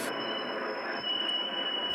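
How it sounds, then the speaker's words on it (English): A tram runs along a city street, giving a steady rumbling rail noise with a thin, high wheel squeal held over it throughout, close and fairly loud. "My tram has reached Pariser Straße"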